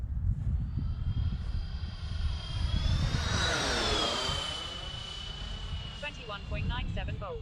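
A Freewing F-14 electric ducted-fan RC jet makes a high-speed pass with its wings swept out: a rising turbine whine swells as it approaches, peaks with a sharp pitch drop overhead and fades away.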